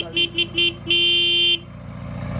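A car horn honks in three short bursts, then one long sustained blast, loud and close, followed by quiet.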